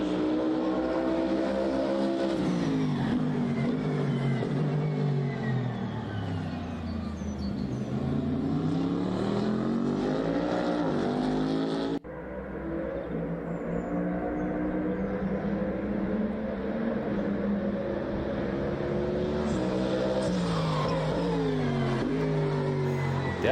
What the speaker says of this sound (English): Definitely sounds like a race car when you're listening to this car, and the shift sounds very, very quick as well.